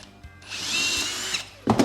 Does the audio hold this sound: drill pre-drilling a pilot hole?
yes